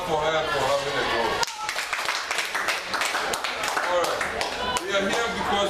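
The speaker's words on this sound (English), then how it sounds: "Clap for her for having a goal." An audience of young people at a youth motivation gathering breaks into brisk, dense clapping for a girl, a loud, close, continuous patter of hands lasting several seconds with a brief voice near the start.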